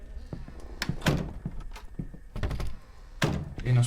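A bathroom door rattles and thuds repeatedly in a horror video game, several uneven knocks and bangs in close succession, with a voice speaking between them.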